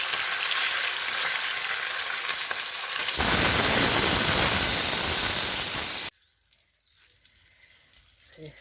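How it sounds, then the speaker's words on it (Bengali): Fish fries in a pan with a loud, close sizzle that grows into a harsher, fuller hiss midway. The sizzle then cuts off, leaving quiet room sound. "মাছ ভাজা বসিয়ে দিয়েছি দুটি ভাজা হয়েছে আর এগুলো ভাজতে বাকি আছে"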